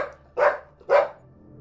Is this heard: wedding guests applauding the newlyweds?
no